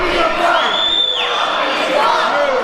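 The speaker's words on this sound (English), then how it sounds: "The crowd heavily behind Honky Tonk Man." An old-school wrestling crowd cheers and roars steadily at an indoor match, a loud wall of voices with a shrill whistle-like whoop rising above it partway through.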